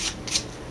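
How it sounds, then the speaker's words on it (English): Sandpaper rubs back and forth along the edge of a thumkin in two short, soft scraping strokes, close and quiet, with no talking. "run the sandpaper back and forth on it"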